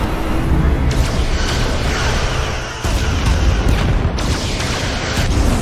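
Starship in Star Trek Resurgence under heavy weapon fire, a loud continuous barrage of booming impacts and blasts rumbling without pause, with a brief dip before the pounding resumes.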